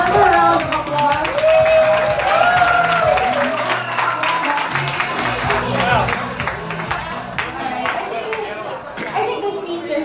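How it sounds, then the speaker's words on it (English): A conference audience at the AMG 2018 opening address gives a round of applause, clapping mixed with chatter and voices, loud at first and gradually tapering off. "let's give them all another round of applause."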